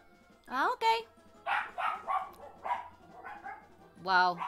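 A person imitates the barking of Bianca, a dog, with a few yelping, bark-like vocal bursts mixed in with other spoken sounds, close and fairly loud.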